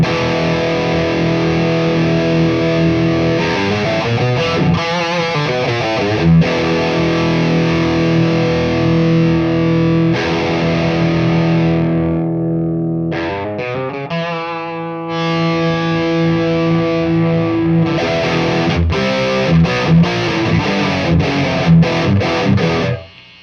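Electric guitar played through a Pantheon overdrive pedal stacked with distortion, sustained, heavily clipped chords and riffs ringing loud and close, with a short near-silent break and choppier picking toward the end.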